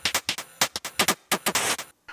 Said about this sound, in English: say, a simple high-end drum loop, which sounds like this.